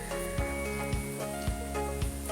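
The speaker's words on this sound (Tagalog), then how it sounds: "At ayan na nga po kumukulo at nag-add na nga rin po pala ako dyan ng sili." A dish with chili bubbling in a pot, giving a constant sizzling hiss broken by regular clinks of stirring about every half second, close up and with no talking.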